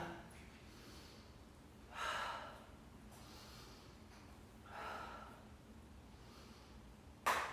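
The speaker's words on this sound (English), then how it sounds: "Inhale. Exhale." Slow, deliberate breaths during a kundalini yoga session, a few soft airy inhales and exhales spaced several seconds apart, close and quiet, ending with a sharper breath.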